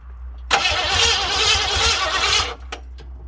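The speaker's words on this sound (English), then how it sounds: "we're about to fire up Robert's car" Robert's car cranks over with a loud, rough starter-and-engine burst lasting about two seconds, then cuts off abruptly, followed by a couple of faint clicks in a quiet space.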